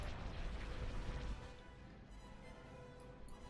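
Explosions during a Star Wars video game space battle, a dense rumbling roar of blasts that is loudest at first, then settles into a lower sustained background.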